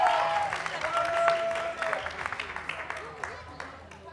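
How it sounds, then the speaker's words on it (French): Audience applause at a political quiz show, a burst of clapping that swells then thins out over a few seconds, with a host's voice and some background talk mixed in. "Dans le public, il faut applaudir vos équipes là"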